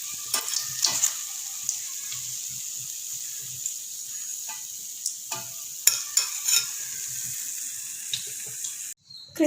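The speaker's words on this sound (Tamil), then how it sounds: "கட்லெட் நல்லா இந்த அளவுக்கு கலர் மாறுற வரைக்கும் ஃப்ரை பண்ணணும்." Chicken cutlets frying in oil, a steady hissing sizzle with occasional soft pops and crackles, close and even throughout, no speech.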